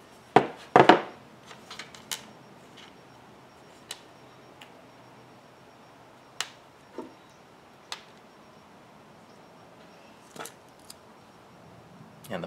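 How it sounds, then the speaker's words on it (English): Handling clicks and sharp taps while setting a snap on a leather axe sheath with a punch and hammer, a couple of louder close knocks early, then sparse single ticks spread across a quiet background. "Gonna need a hammer."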